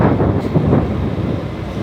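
Cold wind gusts across an outdoor barangay street in Cagayan de Oro, Philippines, a loud, low rumbling buffet against the microphone that swells and dips without pause.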